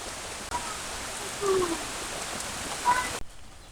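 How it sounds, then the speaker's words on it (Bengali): Light rain patters steadily in a rural village after a storm, a soft even hiss with a couple of faint bird calls, then cuts off abruptly near the end. "বৃষ্টি থামছে আকাশও পরিষ্কার হয়েছে হালকা পিড়ি পিড়ি পড়ে এখন"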